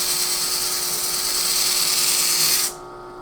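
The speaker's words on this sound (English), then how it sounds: "this is a flap wheel" A flap wheel sanding attachment spinning at high speed on a power tool, used for re-graining a pinball ball guide: a steady, close, loud high-pitched whir that cuts off abruptly near the end, with no talking.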